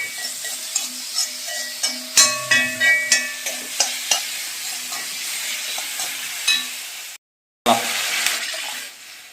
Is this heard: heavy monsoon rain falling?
no